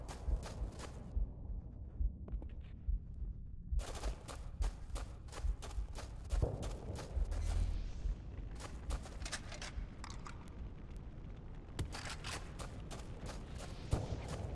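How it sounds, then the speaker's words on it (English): An explosive gun firing in a Halo video game: a long run of sharp, evenly spaced blasts, some clustered rapidly, each with a low booming tail, over steady rumbling background noise and no talking. "The explosive gun is fun"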